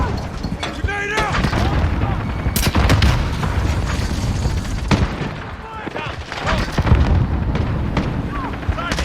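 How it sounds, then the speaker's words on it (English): Grenade blasts and gunfire in Call of Duty multiplayer, a dense chaotic mix of shots and booms running throughout, with voice callouts over the top. "Grenade out!"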